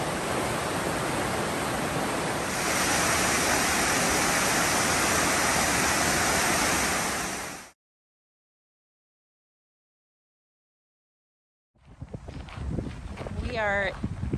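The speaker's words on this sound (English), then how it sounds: "This is the Angus Creek." Rushing water of Angus Creek in a mountain canyon makes a loud, dense, steady roar for about eight seconds, then cuts to silence, and a voice is heard speaking over outdoor noise near the end.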